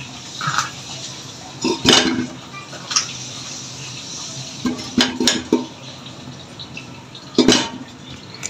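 Potatoes dropped into a pressure cooker with water in a home kitchen, heard as scattered clattering knocks and splashy bursts against the metal pot, with quiet gaps between them.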